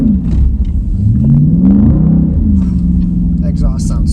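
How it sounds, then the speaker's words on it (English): A Jeep's exhaust rumbles loud and close as it revs and drifts in snow, the engine pitch sweeping up and down in repeated surges, with a person's voice audible over it. "That exhaust sounds so good."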